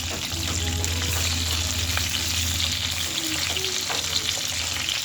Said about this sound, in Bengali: গরম হয়ে গেছে, মুরগিগুলো দিয়ে দেবো। আস্তে আস্তে ভাজা হোক।